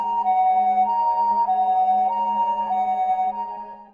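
Ambulance siren wailing in a steady two-tone cycle, loud and clear with no voices, easing off at the end.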